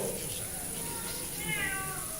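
A person imitates a cat's meow in a crowded church service, the mewing voice rising briefly over steady room murmur and a faint high whine.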